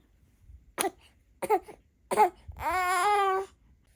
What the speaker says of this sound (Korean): 자꾸 기침해서 어떡해.